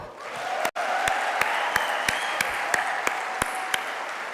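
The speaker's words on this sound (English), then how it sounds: "Another warm round of applause and welcome for Mama Graça Machel." An audience at a formal annual memorial lecture gives sustained applause, a dense wash of clapping with a steady series of sharp, regular clicks or flashes cutting through it roughly every third of a second, and a brief dropout near the start.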